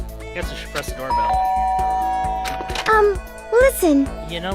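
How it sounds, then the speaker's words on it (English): A two-tone electronic doorbell chime in the game Danganronpa rings out clearly, with game music and short voice-like sounds around it. "Guess I should press the doorbell."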